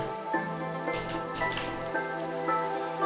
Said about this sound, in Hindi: बहुत गलत जगह पर गलत टाइम पे बरसात हो रही है